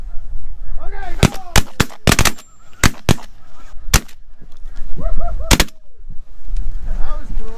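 Gunshots ring out during a snow goose hunt in Alberta, a rapid burst of about ten loud, close blasts mixed with honking geese calling before and after the volley.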